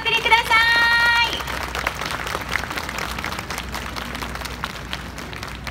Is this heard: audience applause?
yes